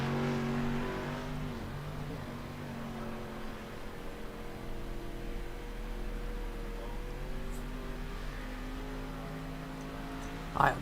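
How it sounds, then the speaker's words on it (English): Race car number 413 running laps on track at a night NWRA Summer Nationals race, a steady engine drone heard from a distance that shifts in pitch as the car circles, faint under low background noise. "We got the 413 of Hunter Mason there on track, running his laps."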